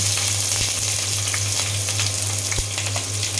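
Chopped garlic, chilli and onion frying in hot oil give off a loud, dense, continuous sizzle close up, with faint crackles and a steady low hum underneath.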